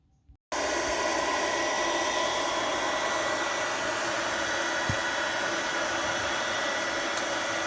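A heater blowing hard on a 50 mm driveshaft nut of a BMW X3M starts abruptly after a brief quiet moment, then roars steadily and loudly like a hair dryer, broadband and continuous, with no talking.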